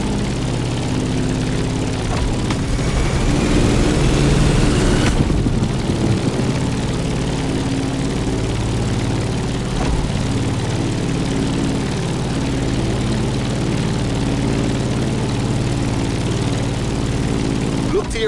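A propeller aircraft engine drones as the plane climbs over Hawaii in the racing game The Crew Motorfest, a loud steady low hum with a rising whoosh early on and a voice talking over it.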